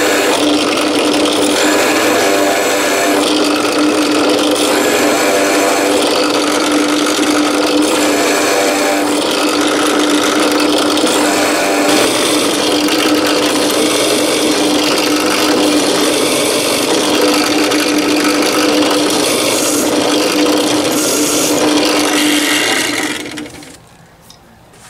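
Power drill boring holes through wooden knife handle scales clamped down for a DIY knife kit, a steady loud whirring hum running continuously for over twenty seconds before cutting off at the end.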